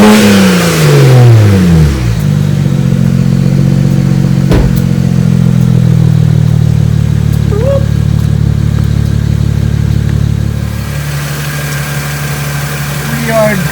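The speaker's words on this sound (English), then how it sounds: "let me give you guys some revs" A BMW 335i car's N54 engine revs up and holds a steady roar for several seconds, then drops back to a lower idle rumble.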